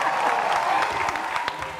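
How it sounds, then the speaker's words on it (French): An audience applauds loudly and continuously at a gathering, a dense wash of clapping with faint crowd voices underneath, easing slightly toward the end. "on va applaudir encore très fort"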